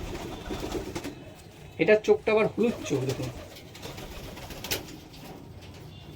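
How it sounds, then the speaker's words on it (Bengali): Black Dobaj pigeons coo in a short burst of several soft, throaty calls close by, while someone talks over them before and after. "এটা মাদা বাঁধা রয়েছে, মাদা পায়রা"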